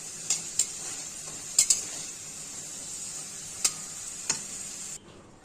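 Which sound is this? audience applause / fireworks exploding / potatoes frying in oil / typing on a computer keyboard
potatoes frying in oil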